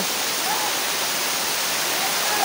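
Havelock waterfall in the Andaman Islands pours down in a steady, even rush of water, close and continuous at a reduced flow, with no voices over it.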